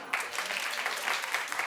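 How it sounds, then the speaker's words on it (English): Studio audience clapping at a daytime talk show, a steady crackling wash of many hands with no voices, holding an even level for under two seconds. "Clap if you saw."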